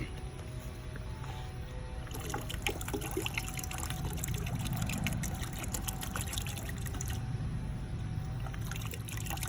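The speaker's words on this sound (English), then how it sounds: "We'll mix it up and we'll just splash it over the pool in 3 different sections." Flocculant being poured and swirled into a bucket of water beside a swimming pool, a steady close trickle and slosh of liquid running the whole time with a constant low background hum.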